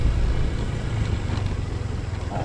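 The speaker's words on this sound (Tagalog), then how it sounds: "Tricycle." A motor tricycle passes on a road at night, its low engine drone steady and fairly close, rumbling continuously with wind-like noise throughout.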